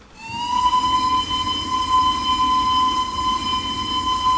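A steady, sustained train whistle sounds inside a tunnel in the Roblox video game, a bright held tone with rich overtones over a low rumbling rail background, loud and continuous.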